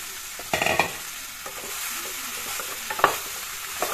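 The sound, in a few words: stirring chopped ridge gourd frying with egg curry in pan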